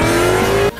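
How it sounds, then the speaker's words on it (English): Animated car revving loudly and pulling away, a sustained engine roar with a rising tone that cuts off abruptly near the end, heard alone with no talking. "Get back in the car, Maddie"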